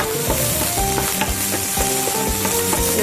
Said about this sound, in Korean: 마늘을 볶겠습니다